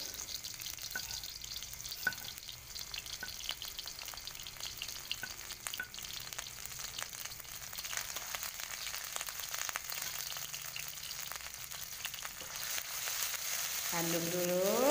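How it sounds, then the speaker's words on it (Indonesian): Ground spice paste frying in hot oil for lumpia, a continuous faint sizzle with scattered stirring scrapes, growing slightly louder toward the end. "Sudah panas nih minyaknya. Saya masukkan bumbu yang halus tadi ya teman-teman."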